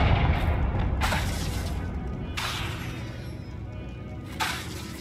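Blasting-spell explosions in a video game boom out three times in quick succession, each a sharp loud burst with a crackling tail over a low rumbling background.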